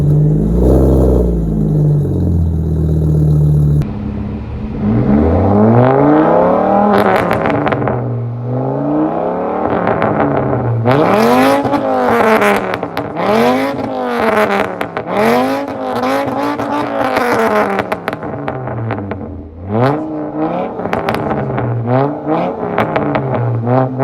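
Mk5 Volkswagen Jetta 2.5 five-cylinder fitted with an Mk6 header, revved repeatedly from idle in sharp rising-and-falling bursts, loud and close with a raspy exhaust tone.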